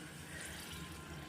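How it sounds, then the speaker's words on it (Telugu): Water is poured into a pan from a small tea glass while making wheat rava upma. It makes a faint, steady, even splashing pour that lasts throughout, with no voices. "గ్లాసుల వాటర్ వేసుకోవాలి."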